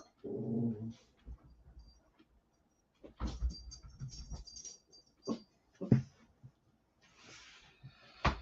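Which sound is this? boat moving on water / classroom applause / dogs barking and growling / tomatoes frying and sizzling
dogs barking and growling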